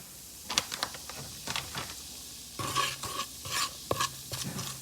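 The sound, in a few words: curry powder stirred and frying in oil in pot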